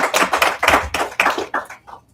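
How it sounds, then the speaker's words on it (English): A small audience at a Providence School Board meeting claps for the operations and maintenance team, a short, close burst of uneven hand claps that quickly thins out. "We don't mind giving them a big round of applause."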